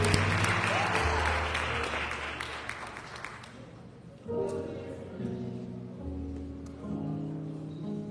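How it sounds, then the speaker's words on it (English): Applause from a church congregation at a Resurrection Sunday morning worship service, loud and dense at first, then fading into scattered claps under talk and organ-like tones. "can we give them another hand clap of praise?"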